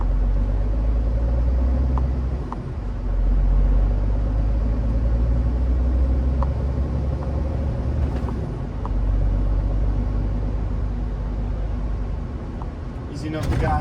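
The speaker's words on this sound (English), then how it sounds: "Easing off the gas, braking slightly because the car just pulled in front of us." Steady low rumble of an HGV lorry engine pulling away from traffic lights in Dunstable, droning continuously with slight swells as it accelerates, heard from inside the cab, with someone talking over it.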